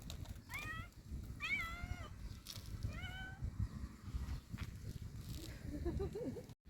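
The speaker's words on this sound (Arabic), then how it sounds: "اهو اهي القطة." A cat meows several times nearby, giving short rising and falling cries spread over a few seconds. A quiet rustling background runs throughout, and a faint voice can be heard near the end.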